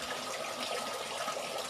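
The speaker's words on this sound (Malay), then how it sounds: "kita tengok air keluar" Water pours out of the end cap outlet of a hydroponic DFT trough, a single steady stream making a continuous close splashing rush throughout.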